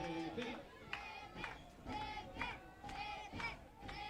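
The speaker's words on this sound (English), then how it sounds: "Crowd here at the Orchard trying to get behind Gus." Ballpark crowd at a Yakima Valley Pippins home game rallying behind pitcher Gus, rhythmic rising shouts and chants in repeated bursts about every half second, loud and echoing across the stands.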